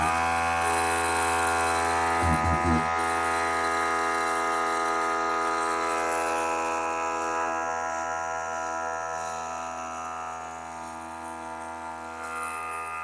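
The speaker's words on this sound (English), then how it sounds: "It's a 3-gallon Pancake silent air compressor." A VEVOR 3-gallon pancake silent air compressor runs with a steady, close motor hum and a rhythmic ticking pulse, holding constant and easing slightly toward the end.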